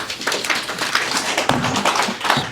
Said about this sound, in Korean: 발표해 주신 박 소장님께 다시 한번 큰 박수 부탁드립니다